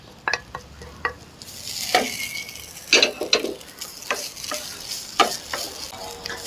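A spatula scrapes and stirs grated coconut being dry-roasted in a pan, with irregular scraping strokes over a soft, steady sizzle of roasting.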